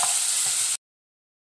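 Spice paste for a chicken dish, loosened with a splash of water, sizzles loudly in a hot pan: a dense, close hiss for under a second that then cuts to silence.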